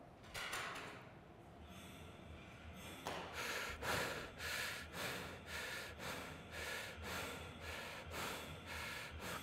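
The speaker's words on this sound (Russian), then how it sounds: "вторая фаза будет в ритме дыхания 120 циклов в минуту, и она будет дышаться только ртом" Rapid rhythmic breathing through the mouth in a breathing-technique demonstration at about 120 cycles per minute, with steady repeated breath pulses that are close and loud over a constant noisy background.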